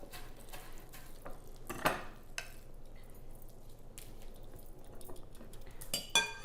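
A spoon scrapes and clinks against a dish as food is spooned out in a home kitchen. The sounds are quiet and scattered, a few soft clicks over low background noise.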